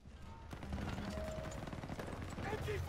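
MG42 machine gun fire in the WW2 shooter Call of Duty WW2: dense, rapid rattling bursts amid battle noise and rumbling, fairly faint and sustained, with voices shouting over the action.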